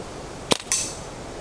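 A Walther Rotex RM8 air rifle fires at a squirrel at night: one sharp, close crack, then a second brief snap a split second later, against a quiet background with no voices.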